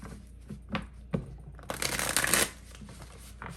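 A tarot card deck is shuffled in a dense riffling burst that builds and then stops, preceded and followed by a few soft card taps and handling sounds close by, with no speech.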